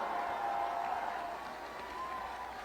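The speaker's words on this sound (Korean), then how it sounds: "여러분 우리 이재명 후보님께 뜨거운 박수로 화답합시다" A crowd at a Busan campaign rally for candidate Lee Jae-myung applauds, a broad, steady wash of clapping and crowd noise with a faint sustained tone running underneath.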